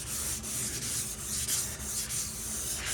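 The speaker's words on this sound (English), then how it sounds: "I'm going back with the 600 grit and sanding it all" Close, steady rhythmic rubbing as car primer is wet sanded by hand with 600-grit paper on a flat pad, back-and-forth strokes continuing evenly with no pauses.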